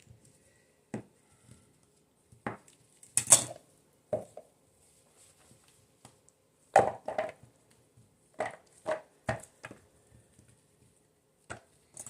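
A knife chops melt-and-pour soap in scattered, uneven thuds against a cutting board, quiet to moderate, with pauses between strokes and no talking.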